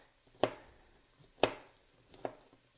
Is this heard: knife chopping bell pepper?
yes